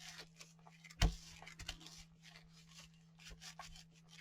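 Paper is peeled off a backing and pressed onto an envelope by hand, making soft close rubbing and scraping sounds with one sharper tap near the start and faint crinkles after it.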